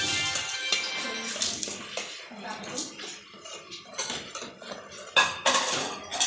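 Pots, pans and metal cutlery clatter and clink close by as dishes are washed by hand, in irregular bursts throughout with a faint trickle of water in the background.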